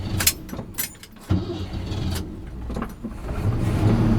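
Engine of an abandoned Chevy Squarebody truck, sitting for 23 years, idling and catching with a low rumble, a few clicks and knocks early on, then building steadily louder toward the end.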